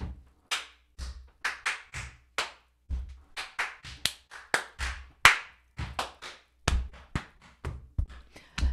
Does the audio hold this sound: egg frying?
no